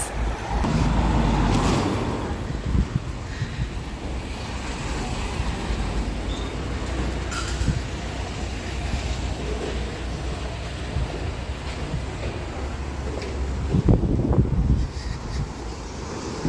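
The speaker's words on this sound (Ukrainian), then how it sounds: "Ого, який тут трафік." Street traffic in an Irish town rumbles and whooshes past outdoors, with wind buffeting the microphone and passing vehicles coming and going.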